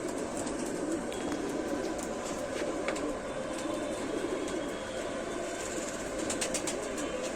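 Rampuri pigeons cooing softly amid a steady wash of outdoor background noise, the low calls repeating throughout.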